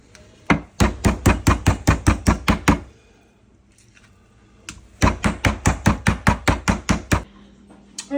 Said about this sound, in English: we finished pounding our chicken for all our chicken dishes that we're going to be doing today